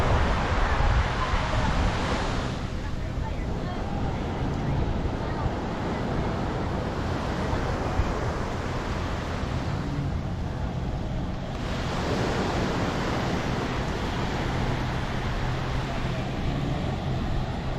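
Ocean surf rolls onto a beach at El Nido, Palawan, a steady broadband wash with two swelling wave surges, mixed with wind buffeting the microphone and a voice talking over it.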